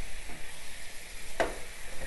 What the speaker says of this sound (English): Get that butter sizzling around it.